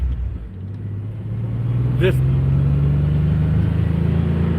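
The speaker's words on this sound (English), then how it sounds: "But this Dodge pickup's a lot quicker than the Ford is. It's got a V6 in it." A Dodge pickup with a V6 drives along, its engine a steady low hum with a faint rising tone as it pulls, heard from inside the cab with a brief knock partway through.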